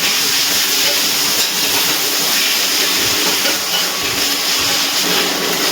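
Minced mutton keema mixed with spices sizzles and fries in a pan, a steady, loud hiss that runs unbroken throughout with no talking.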